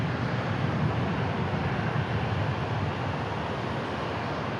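An arriving airliner at DFW International Airport produces a steady, broad jet roar that holds at a constant loudness, with no talk over it.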